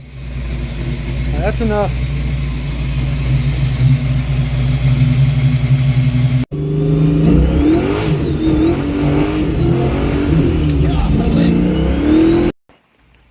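Ford Mustang engine idling, then revving hard several times as the throttle is stabbed, loud and close, with a brief spoken remark near the end.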